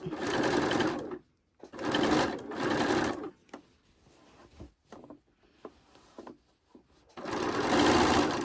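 A sewing machine stitches a Christmas tree skirt in short bursts, with quiet pauses between runs as the fabric is worked around a curve; three loud close stitching passes.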